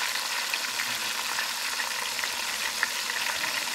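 Flounder dredged in all-purpose flour fries in a pan, giving a steady, even hiss and crackle of hot oil with small pops throughout, moderately close and with no talk.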